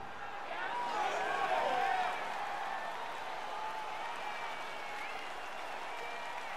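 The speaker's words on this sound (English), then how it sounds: "crowd getting excited as this fight gets underway" Arena crowd in the UFC 4 fighting game cheers and applauds as a bout opens, a broad roar swelling briefly then settling into steady background noise beneath a commentator's voice.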